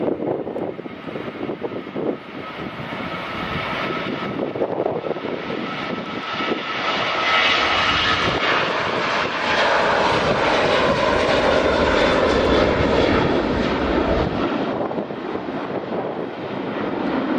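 An airliner departs from runway 24 at Edinburgh Airport on a summer evening, its jet engine roar building and staying loud and broad for the whole stretch, with wind buffeting the microphone and no talking.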